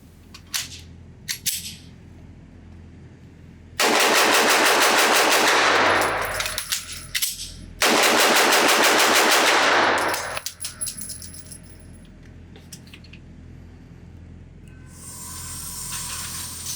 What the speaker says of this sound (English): I'm gonna load up 2 magazines, shoot this thing as fast as I can, try to get the gun back in action after a quick mag change